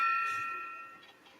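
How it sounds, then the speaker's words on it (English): A bell struck once gives a bright, clear ding with a sustained metallic ring that slowly fades, followed by faint quiet noises as the tone decays. "Let's hit that bell."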